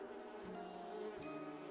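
Bees hum in a steady, dense drone around a hive in a garden tree, a faint and continuous buzz with no talking.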